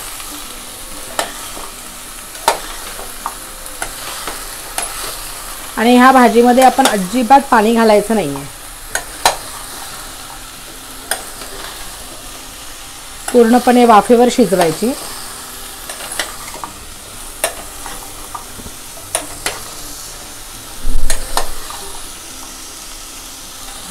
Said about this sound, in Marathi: आता हे व्यवस्थित आपण सगळं परतून घेऊया